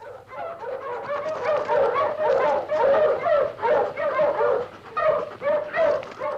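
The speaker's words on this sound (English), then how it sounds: "These men are having the annual dog race." Sled dogs at an annual dog race in 1960s Canada, a steady chorus of barks and yelps close by, repeating continuously with no pauses and no talk over it.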